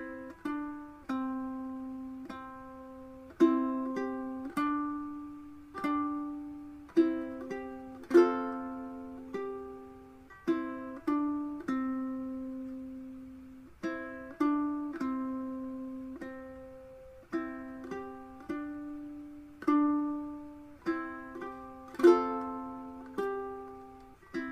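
Ukulele fingerpicked slowly through the opening measures of the hymn Come Thou Fount of Every Blessing, with clear plucked notes that ring and decay, played alone without talking.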